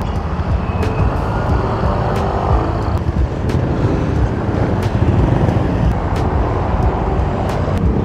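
Motorbikes ride along a road, a loud, steady engine and wind roar with broadband rumble throughout, close and continuous with no pauses.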